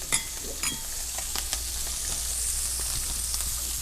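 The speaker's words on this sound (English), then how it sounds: "I love the smell of almonds. Yeah. Cooking in the butter" Almonds cooking in butter in a pan give a steady, moderate sizzle with a few sharper pops and stirring scrapes early on, continuous throughout with no voices.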